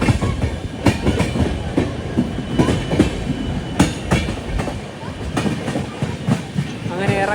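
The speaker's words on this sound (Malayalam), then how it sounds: "ഇതൊക്കെ ബാങ്കറൊക്കെ ആയിട്ട് പോകുന്ന ലോക്കോമോട്ടീവുകളാണ്." The Poorna Express runs downhill on the rails through the Dudhsagar area, giving a loud, continuous rumble with steady rhythmic clickety-clack of wheels over rail joints and occasional faint squeals.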